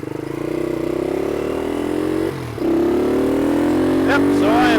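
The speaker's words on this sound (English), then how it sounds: "hopefully you guys can hear me over the motorcycle" A vintage motorcycle engine drones steadily and loudly while riding, a constant mid-pitched hum with a short dip as if shifting gears. No speech is heard.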